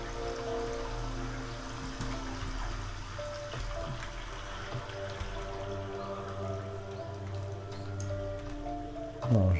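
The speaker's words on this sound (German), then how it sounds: "Und hier ist der große Wasserfall." Large waterfall in the video game The Forest, a steady broadband rush of falling water that continues without a break, with a short louder burst right at the end.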